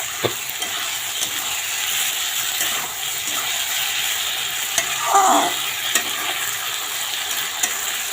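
Spice paste of cumin, ginger, green chili and onion sautéed in a pan, with a continuous sizzle broken by occasional spatula scrapes and a brief wetter hiss midway, no one speaking.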